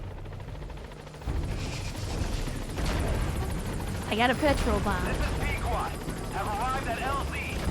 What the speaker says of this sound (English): He does not seem to be interested in the helicopter at all.